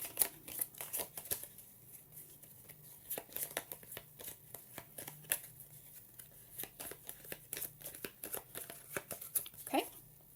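A hand of printable tarot cards is shuffled, giving soft, repeated papery flicks and rustles at a low level over several seconds.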